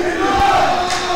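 Spectators at a high school varsity basketball game chant together, a loud sustained crowd call echoing through the gym with general arena noise beneath.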